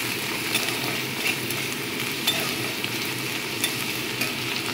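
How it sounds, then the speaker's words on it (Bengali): Chopped onions frying with salt in a pan over a high flame, a steady dense sizzle with faint stirring clicks throughout, close and moderately loud, no talking. "দেখো, পেঁয়াজ ভাজাতে চলছি।"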